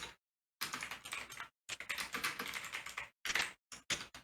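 Computer keyboard keys pressed in several quick bursts of clicky typing, with short silent gaps between the runs of keystrokes, close and fairly quiet.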